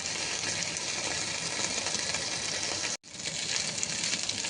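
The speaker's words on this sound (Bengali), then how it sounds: "আদা রসুন বাটা একটু ভাজা ভাজা করে নিয়ে" Ginger garlic paste fries in a pan with onions, a steady broadband sizzle that breaks off briefly near the end before resuming.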